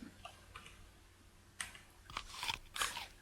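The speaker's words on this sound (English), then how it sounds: "Some very crunchy sultanas and crunchy strawberries." Crunchy eating sounds of sultanas and strawberries in the Dungeon Crawl Stone Soup game: a few soft early crunches, then a denser burst of sharp biting and chewing crunches near the end, with no voices.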